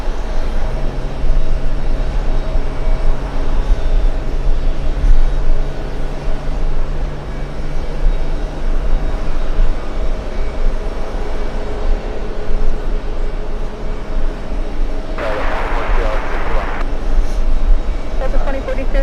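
An airplane arrives at JFK airport in summer heat, its engines a steady loud rumble and roar throughout, with a brief hissing swell near the end and air traffic radio chatter in the mix.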